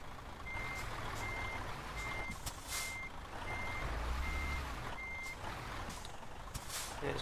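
A truck backs a trailer into position in the Euro Truck Simulator 2 video game, its steady reversing beeper pulsing evenly over a low diesel idle, with occasional hisses of air brakes and no talking.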